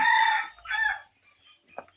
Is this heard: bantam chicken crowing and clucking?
yes